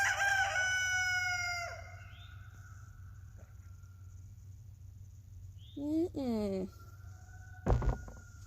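A rooster crows loudly nearby, followed by scattered clucks and a second crow, over a low steady hum with no talking.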